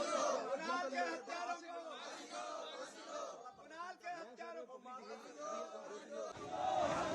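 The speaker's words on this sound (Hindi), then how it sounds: "भीड़ मौजूद है, लोग बड़ी संख्या में यहाँ पे हैं।" A large crowd of protesters gathered at a protest scene in Seelampur, Delhi, fills the air with dense, continuous overlapping chatter and raised voices, with occasional louder shouts rising out of the steady murmur.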